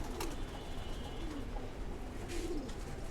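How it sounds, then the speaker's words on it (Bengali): Large homer pigeons in a breeding loft, one pair sitting on eggs and another with chicks, coo softly and repeatedly in low rounded calls against steady ambient noise, with brief higher chirps now and then. "ভিতরের কবুতরগুলো দেখলেন একজোড়া ফোস্টার পেয়ার বড় হুমা কবুতর"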